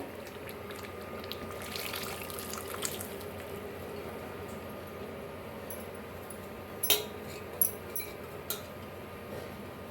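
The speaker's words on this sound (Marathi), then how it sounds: "आता इथं गरम पाणी घातलेलं आहे बघा" Hot water being poured into a pan of cooked corn kernels and roasted spice masala, a steady soft liquid wash with a few light clinks of a utensil against the vessel near the end.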